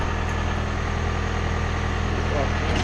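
A steady, loud tractor engine rumble, running with a Krone EasyCut 280 mower in a field, idles continuously up close, low and even with no breaks.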